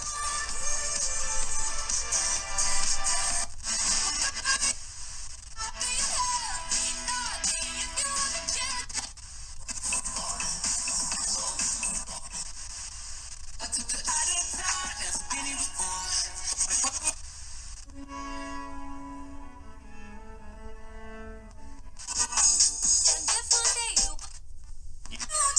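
FM broadcast playing through the small 30mm loudspeaker of a pocket Nontaus world-band shortwave-FM-AM radio receiver, a continuous lively mix of music and voices that stays loud throughout and briefly thins in the middle.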